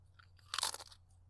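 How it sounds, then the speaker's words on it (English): A single close, crisp crunch of someone biting and chewing chips, with a couple of softer crackles around it, faint and alone over low background hum. "You're just over there chewing chips"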